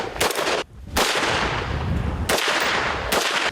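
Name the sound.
gunshots fired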